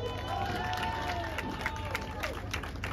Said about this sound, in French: On va pouvoir l'applaudir très très fort